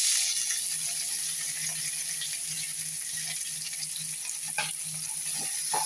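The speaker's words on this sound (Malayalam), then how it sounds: "എന്നിട്ട് നമുക്ക് സവാള വഴറ്റിയെടുക്കാം" Onions sauté in ghee and oil for prawn biryani, giving a steady close hiss of frying with light clinks and scrapes of stirring scattered throughout.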